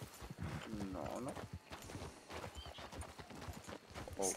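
Hooves of a horse in Red Dead Redemption II clop in a steady irregular gait at low level, with a brief whinny, while people talk over the game sound.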